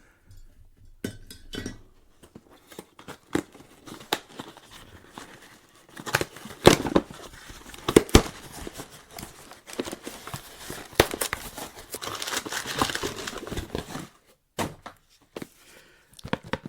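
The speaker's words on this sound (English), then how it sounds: "what I'm going to do now is to just tear that box open" Rustling, crinkling and sharp clicks of a cardboard box being cut and torn open up close, with scraping bursts and brief pauses between.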